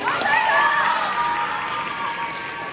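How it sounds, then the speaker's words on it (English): A banquet crowd at a high school sports awards night claps steadily, with dense applause close by and a few cheers and voices rising over it. "So, round of applause for her."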